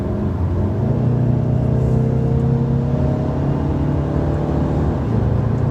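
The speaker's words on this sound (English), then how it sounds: "You hear that exhaust note? It does affect the exhaust note as well." A 2019 Mercedes-Benz A 250 hatch with 4MATIC in sport mode gives a steady, droning exhaust note with a low engine hum that shifts pitch slightly as it holds under moderate load, with no talk over it.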